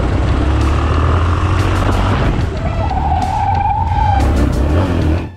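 Motorcycle tires skid and squeal during a police chase involving Yamaha XT660 bikes, a loud sustained screech over steady engine roar that rises in pitch near the middle before fading out.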